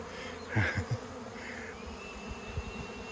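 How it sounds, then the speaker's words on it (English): A swarm of honeybees pours into a propolised log hive hanging in a tree outdoors, giving a low, steady buzzing hum with a few louder swells early on. No one speaks. "I'm standing in the middle of a honeybee swarm"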